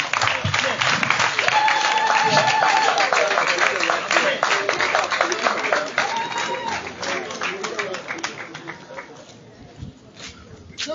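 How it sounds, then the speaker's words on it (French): A church congregation at Sunday Mass applauds warmly, sustained crowd clapping for most of the stretch, with voices and some tonal sounds underneath, gradually thinning toward the end. "Papa Florent, merci de l'applaudir."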